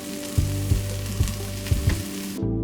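A pizza dosa topped with vegetable pieces sizzles loudly on a hot griddle just after flipping, with a close, continuous crackle and a few soft scraping knocks before it cuts off abruptly.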